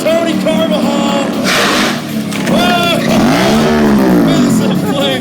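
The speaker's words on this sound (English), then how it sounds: "When you hear that bike revving, that means he's coming through." Indian Scout motorcycle revving at a stunt thrill show, engine climbing and falling in pitch through repeated revs, loud and close over crowd noise and an announcer talking.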